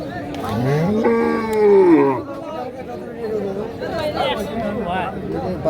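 A cow lets out a long, loud moo close by amid the busy chatter of a crowd at a livestock market.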